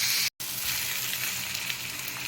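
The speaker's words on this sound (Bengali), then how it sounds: "রসুনটা পেঁয়াজের সঙ্গে তেলের সঙ্গে একটু ভেজে নেব।" Garlic paste and browned onion frying in oil in a pan while preparing mutton curry: a steady, close, bright sizzle with a momentary dropout near the start and no talking.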